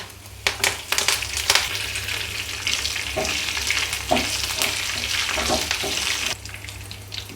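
Mustard seeds, chana dal, urad dal and curry leaves frying in hot oil for a cabbage sabji, giving a steady close sizzle with sharp crackles and pops and a few stirring scrapes.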